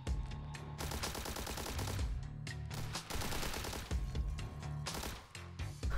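Rapid machine gun fire in the video game The Hong Kong Massacre, dense bursts of shots with short gaps, loud and up front with no talk over it.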